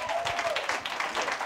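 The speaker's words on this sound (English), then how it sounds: "Give a round of applause." Audience applause at a climate-justice people's tribunal, following a sung performance; steady, fairly soft clapping from a crowd runs throughout.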